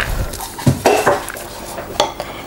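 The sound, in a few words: adding minced chicken and vegetables into a bowl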